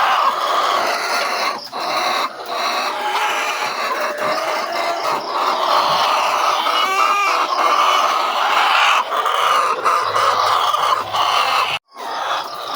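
Chickens clucking steadily around a coop, a dense flock chatter that runs through the whole stretch at close range, with a rooster-like call rising in the middle and no one talking.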